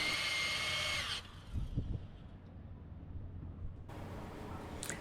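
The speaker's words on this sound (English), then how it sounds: "The drill starts to overheat a little, so it takes a long time to do this." A power drill fitted with a hole saw cuts slowly through material while running a little hot, whining loudly for about a second before stopping abruptly, leaving a quieter background with a few dull knocks.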